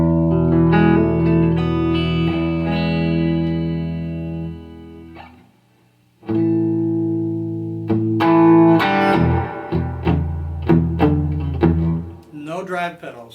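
Electric guitar from a Telecaster's bridge P90 pickup through a Carr Super Bee amp rings out in clean, full chords, a held phrase fading to a brief silence before plucked notes and strums resume, then choppy rhythmic stabs close it out.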